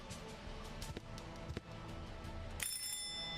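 A doorbell chimes in the point-and-click adventure game Chaos on Deponia, a bright ringing tone that cuts in near the end over a busy background of game sounds and music.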